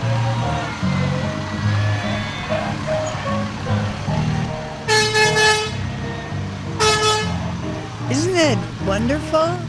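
A Public Works truck in a Fourth of July parade sounds its horn in a few loud blasts, two long and then shorter toots, over rumbling engines and a crowd with talk nearby.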